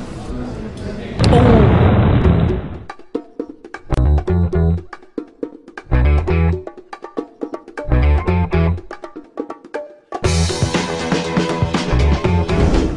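Heavy explosions and booming blasts from Assassin's Creed come in several loud bursts, some long and rumbling, separated by brief quieter gaps, with a voice talking at times.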